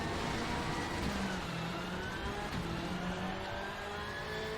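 A rally car in Richard Burns Rally is driven at full throttle, its engine roaring steadily and loudly throughout with rising harmonics as it accelerates, with no one talking over it.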